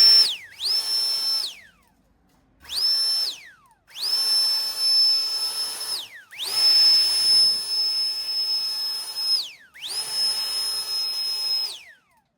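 Seese cordless jet-style leaf blower on a fresh battery, powered up in repeated bursts: a loud rising whine that holds steady, then spins down, about five times over twelve seconds with short quiet gaps between runs.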